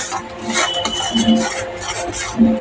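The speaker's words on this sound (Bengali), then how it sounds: "এবার আমি একটু নেড়ে নেব" Ghetkol (kharkol) leaf paste stirred in a metal pan with a utensil, giving soft repeated scraping and faint clinks at close range, with no voices.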